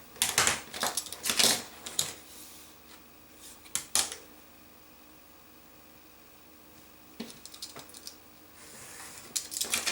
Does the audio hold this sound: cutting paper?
yes